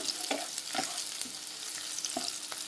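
Chopped onions with green chillies and curry leaves frying in a pan, a close steady sizzle with a few sharp scrapes of stirring breaking through, no voices.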